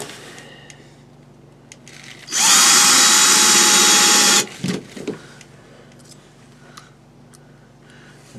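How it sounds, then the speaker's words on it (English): A power drill drives a screw into the flap of an RV remote sewer valve in one loud two-second burst, followed by a few faint clunks and quiet handling. "We'll just put our flap up, shoot some screws in it."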